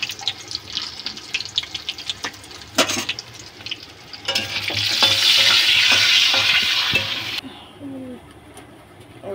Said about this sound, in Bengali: পেঁয়াজটা তেলে দিয়ে দেবো, পেঁয়াজটা লাল করে ভেজে নিচ্ছি